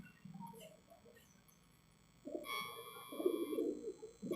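Soft cooing of hobby pigeons in Belgaum, India, a few low murmuring calls close by, with a brief thin chirp and faint background noise.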